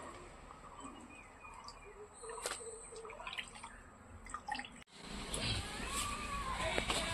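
Water drips from freshly soaked bhola fish draining in a basket, with faint, irregular drips and trickles over a quiet background that grows louder and wetter toward the end.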